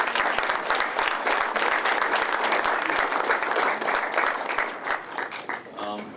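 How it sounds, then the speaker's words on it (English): Audience applauding a panel of coaches at an event, dense sustained clapping from a crowd with a voice audible over it, tapering off at the end. "give a round of applause to Chris and the coaches on the panel for just sharing their lives with you"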